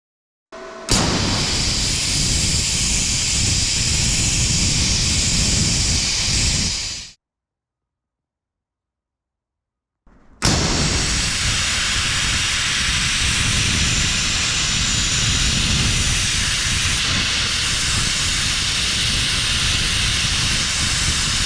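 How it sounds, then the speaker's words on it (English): CUT-65DS PLUS plasma cutter gouging metal, a loud, steady roaring hiss that runs for several seconds, cuts out abruptly into silence for about three seconds, then starts again and continues. "The gouging feature is great for removing bad welds"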